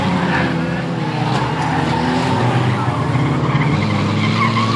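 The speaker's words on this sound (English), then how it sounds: "The 63 spun around again there." Race car at a dirt or oval track meeting spinning around mid-race, tires skidding and squealing over loud, continuous engine roar from the field, with faint voices in the background.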